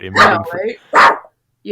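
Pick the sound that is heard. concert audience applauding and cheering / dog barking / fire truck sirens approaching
dog barking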